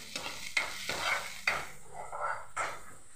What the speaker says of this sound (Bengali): পেঁয়াজ কষানো হচ্ছে